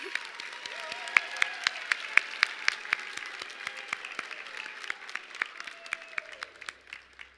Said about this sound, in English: Oh, we can clap for him.